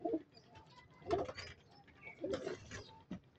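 Racing pigeons cooing nearby, several soft, low throaty coos in a loose rhythm, quiet and close, with no talking.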